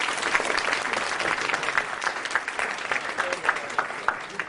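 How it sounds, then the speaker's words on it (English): Audience applause at an awards ceremony, a steady round of many hands clapping with sharp individual claps standing out, moderately loud throughout the few seconds. "Can I hear a round of applause?"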